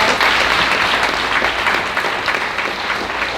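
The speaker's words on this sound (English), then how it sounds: "give all 3 of our presentations another round of applause" Loud, close audience applause follows three presentations at an emerging leaders commencement, a thick continuous clapping that stays strong for the whole stretch.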